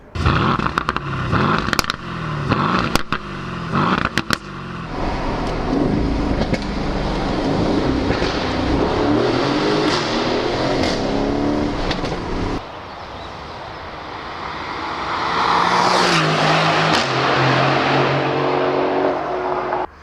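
A V8 sports car's exhaust roars through revs and gear changes, with sharp pops early on and a rising snarl near the end.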